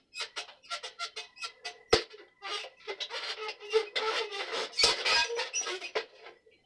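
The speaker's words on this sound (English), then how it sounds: "That's squeaking." Metal parts of a Conn tenor saxophone squeak repeatedly as a piece is wiggled loose during a repair, giving a busy run of close, short creaks and clicks with one sharp snap partway through.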